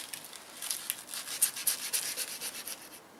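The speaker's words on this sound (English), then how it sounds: "Now as I've sanded away at this, and we've found more and more rust underneath the powder coat" Sandpaper rubs rust and powder coat off a small part from a Yamaha TDM850 motorcycle under restoration, making a quiet run of quick, rhythmic, scratchy strokes close to the microphone.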